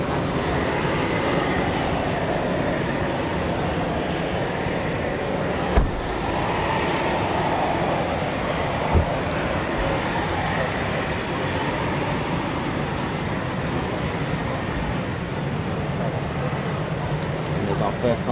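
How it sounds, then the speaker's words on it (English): A Eurofighter Typhoon FGR4 jet at RAF Coningsby, approaching on runway 25 in calm wind, makes a continuous, broad engine roar that holds steady for the whole stretch, with faint voices underneath. "Eurofighter Typhoon. The family version Typhoon there,"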